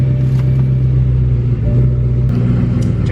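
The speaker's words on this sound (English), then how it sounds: "Alright, let's get back in the car. And let's go for a test drive real quick" A BMW E9X M3 on a road drive after a speed sensor replacement, its engine a steady loud low rumble from inside the car with no clear revving.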